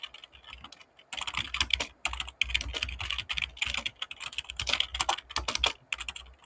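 Bursts of rapid typing on a computer keyboard while writing C code for a union-find data structure, close and clear, with short pauses between runs of keystrokes and no voices.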